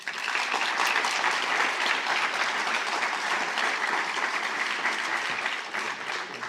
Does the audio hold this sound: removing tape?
no